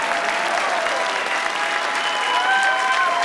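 A studio audience at a live taping of Dr. Phil claps steadily, a dense, loud wash of applause lasting throughout, with a few faint whistles or voices rising near the end.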